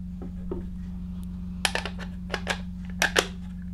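Back cover of a FED 4 film camera being slid and snapped shut: a few quiet metallic clicks and scrapes, then a cluster of sharper clicks, close up over a steady low hum.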